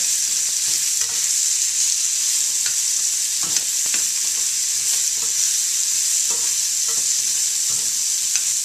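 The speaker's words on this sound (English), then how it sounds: "just toss them around in the bacon grease so they get all that good bacon flavor" Shallots seasoned with salt and pepper sizzle loudly in bacon grease for a spinach bacon omelette, a dense unbroken crackle close up, punctuated by scraping tosses of the pan every second or so.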